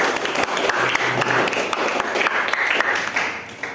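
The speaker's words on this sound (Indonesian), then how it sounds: "Masih tepuk tangan untuk kelompok 1." Classroom applause for the first student group: a dense, steady wash of many hands clapping together, loud and close, lasting throughout.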